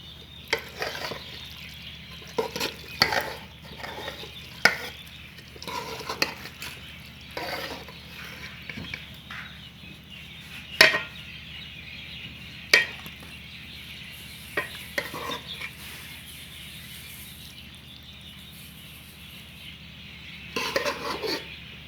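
Cooked chicken shell macaroni is scooped from the cooking pan into a pot, giving scattered metallic clinks and scrapes of a utensil against cookware, spaced irregularly over quiet background hum, with a quick cluster of clatter at the end.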